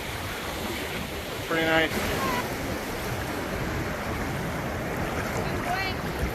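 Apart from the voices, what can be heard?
ocean waves at Galveston, Texas beach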